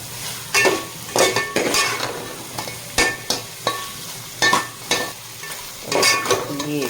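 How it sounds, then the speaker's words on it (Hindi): Masala fries in plenty of oil while being stirred, a continuous sizzle punctuated by sharp spoon scrapes and clinks against the pot at irregular intervals, close and fairly loud. "ये ज़बरदस्त किस्म के तेल में रखा है, ज़बरदस्त किस्म की भुनाई हो गई"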